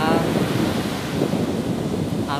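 Large ocean waves break and roll onto a wide beach, a loud broad wash mixed with wind buffeting the microphone, and a voice briefly audible.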